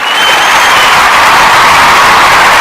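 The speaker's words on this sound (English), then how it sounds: "let me hit the clap for everybody" Canned applause and cheering fill the air loudly and steadily, a dense wash of many hands clapping without pause from start to finish.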